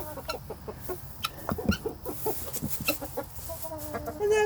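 Chickens cluck and chatter inside a coop, a busy overlapping stream of short calls and scratchy movement close by, with a brief human murmur near the end.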